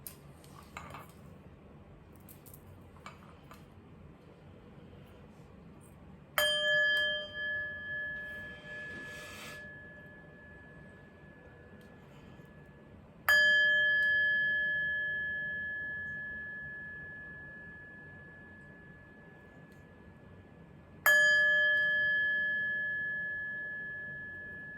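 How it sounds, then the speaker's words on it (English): A chime is struck three times at spaced intervals, each strike ringing out clear and sustained before slowly decaying, heard alone in a quiet room after some faint handling noises. "But first, let's chime."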